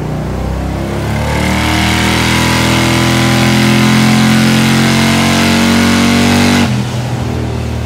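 A turbocharged car running at 2.5 pounds of boost on 58% ethanol fuel drones loudly and steadily with rising engine pitch, then its note drops near the end as the load eases, with no talking.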